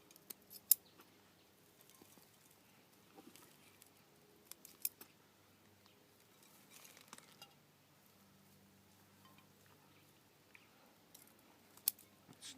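Scissors trim the roots of a fig bonsai freshly lifted from its pot. Quiet, sparse snips and small clicks come at irregular intervals close by, with soft handling noises between them.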